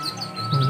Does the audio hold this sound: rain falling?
no